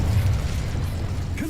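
Incendio fire spell cast in Hogwarts Legacy, a steady low rumbling roar with a creaking mechanical texture and a small rising flare at the end.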